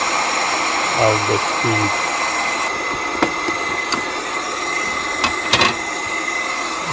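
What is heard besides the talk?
small blower of magnetic IDEX cooling system running at max power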